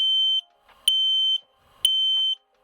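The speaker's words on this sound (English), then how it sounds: "The onboard alarm is quite loud." X-Sense Wi-Fi smoke alarm, rated at 85 decibels, sounding three loud, piercing electronic beeps of about half a second each, separated by short gaps, close and clear with no talking.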